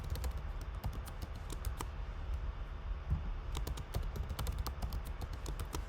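Rapid keystrokes on a computer keyboard as a password is entered, a close, continuous clatter of uneven taps with no talking.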